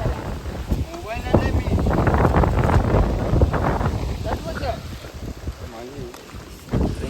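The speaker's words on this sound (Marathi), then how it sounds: "डेंजर वारा सुटलाय भाई, बेकार" Strong storm wind gusts outdoors in a village, buffeting the microphone with loud rumbling bursts while people talk over it.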